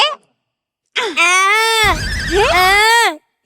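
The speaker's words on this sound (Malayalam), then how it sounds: "ഇഞ്ചക്ഷൻ വെച്ചത് ഇവിടെയാണെങ്കിലും നിലവിളി കേട്ടത് അവിടെയാണല്ലോ" A child shrieks and wails loudly after an injection in a hospital comedy sketch, two long rising-and-falling cries broken by a short pause and a noisy gasp.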